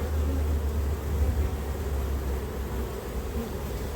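Honeybees buzz around hives at an apiary, a dense, steady drone of many wings holding at one loud level throughout with no break or voice over it.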